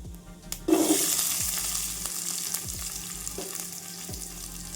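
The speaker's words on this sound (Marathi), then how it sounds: "तूप गरम झालेलं आहे आणि आता आपल्याला जिरं टाकायचं आहे" Cumin seeds hit hot ghee with a sudden loud sizzle that swells, then settles into a steady crackling fry, with a few soft clinks of a spoon against the pan.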